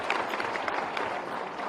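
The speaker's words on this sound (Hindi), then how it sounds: "ये जोरदार ताली बजाओ" An audience at a youth outreach program in Bhopal bursts into applause, a dense steady crackle of many hands clapping throughout, loud and continuous.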